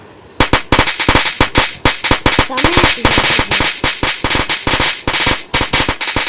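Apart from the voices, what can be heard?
firecrackers bursting in a video game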